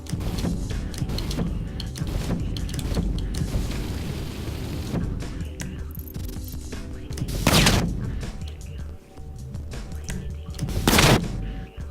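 Explosions and gunfire crackle through a scene in the video game GTA V, with a steady clatter of shots punctuated by two sharp, loud blasts near the end.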